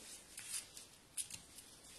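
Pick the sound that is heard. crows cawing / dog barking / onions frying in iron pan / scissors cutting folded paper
scissors cutting folded paper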